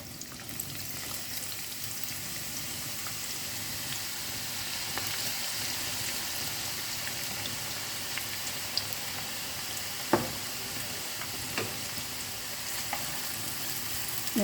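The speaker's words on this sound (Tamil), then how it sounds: "எண்ணெய் சூடாயிடுச்சு, இப்போ இதை பொரிச்சிக்கலாம் கொஞ்சம் கொஞ்சமாக" Thinly sliced onions fry in hot oil for crispy fried onions, a steady close sizzle with occasional sharp pops and crackles and no talk.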